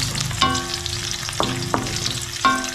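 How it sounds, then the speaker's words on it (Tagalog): Garlic and onion sautéing in a pan, a steady loud sizzle with a few sharp clinks of a utensil stirring against the pan. "Gigisa na tayo ng bawang at sibuyas."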